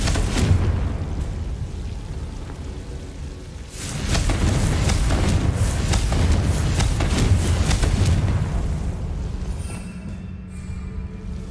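Confringo blasting spell explosions from Hogwarts Legacy, a heavy rumbling, crackling burst that swells twice and sustains for several seconds before fading into a low ambient hum.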